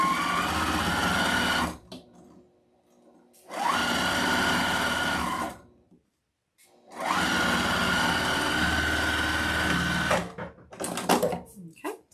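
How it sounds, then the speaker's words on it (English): A sewing machine stitches across the top of a fabric Easter bunny, three loud sustained whirring runs separated by short pauses, with faint handling noises in between. "we're just gonna sew this across the top. Make sure you go through the tabs."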